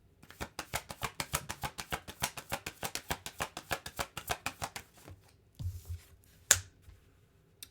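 Tarot cards being shuffled in rapid crisp slaps, about two dozen quick riffling beats in steady rhythm, then a pause and a couple of louder snaps as cards are drawn, close and clear with no talking.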